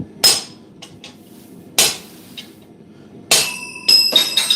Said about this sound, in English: Hit the chisel, Sam.